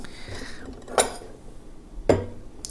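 Kitchen bowl being taken out, two distinct clinking knocks of dishware about a second apart, close and moderately loud, with faint light rustling between them and no speech.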